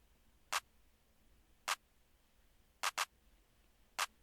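Clap drum sample in an R&B beat, five crisp isolated hits against near silence, landing on the two and four with one quick doubled hit for variation.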